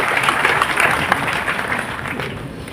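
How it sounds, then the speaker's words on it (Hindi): A university audience applauds in a hall, steady dense clapping throughout, with a few faint voices mixed into the crowd. "ताली तो बजा दो"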